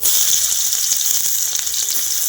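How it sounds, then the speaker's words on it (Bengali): Chopped onion hitting hot mustard oil in a wok, a loud continuous bright sizzle that stays dense and even throughout, no voices. "তেলটা আমি গরম করে নিয়েছি। এবার আমি পেঁয়াজ দিয়ে দিচ্ছি।"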